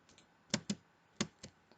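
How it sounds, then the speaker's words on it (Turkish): A computer keyboard at a school computer is pressed in a few quick, sharp clicks, about five distinct taps spaced irregularly, close and fairly faint, with no talking. "Şimdi boşluk tuşuna basıyorum klavyeden"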